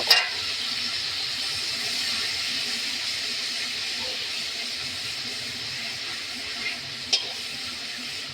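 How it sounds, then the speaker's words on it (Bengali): Biryani spices with ginger and garlic roast in a pan with a continuous even sizzle and hiss, broken by a sharp knock at the start and a couple of faint clicks near the end. "যেহেতু আমার গোটা আদা রসুন ছিল না, ওই জন্য আমি এটা এখন ভালো করে রোস্ট করে নেব।"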